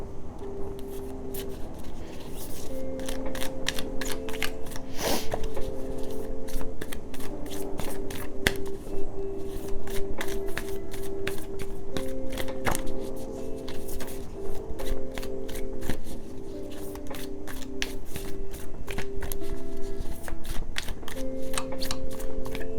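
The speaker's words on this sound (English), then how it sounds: "I just kind of zone out when I'm shuffling" A deck of cards is shuffled over and over, with rapid riffling flutters and soft taps repeating close by, steady and continuous, while faint background tones run underneath.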